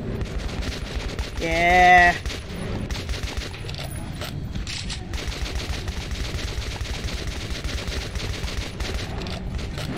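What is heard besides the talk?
AK rifle gunfire in video game Metro 2033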